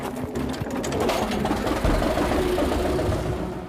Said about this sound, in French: Autre usine à gaz, ce tracteur de 1923.